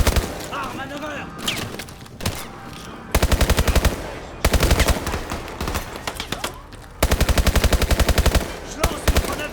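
Bursts of automatic gunfire in the Call of Duty Advanced Warfare campaign, rapid loud rattling volleys in several separate strings, with game voices speaking between the bursts.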